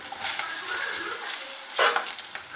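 Asafoetida, garlic, green chillies, onion and tomato sauté together in hot oil with a steady close sizzle, broken by a brief louder stir-and-crackle burst near the end; no one speaks.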